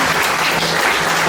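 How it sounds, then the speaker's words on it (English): Steady audience applause fills the room at a live stage event, dense and continuous clapping from a crowd without a break. "Give her a big round of applause."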